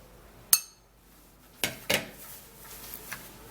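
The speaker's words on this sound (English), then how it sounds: "and then you give it a stir" Spoon stirring a homemade anti-ageing skin treatment mixture in a bowl, heard as a few sharp, isolated clinks against the bowl's side separated by quiet pauses, close and fairly soft.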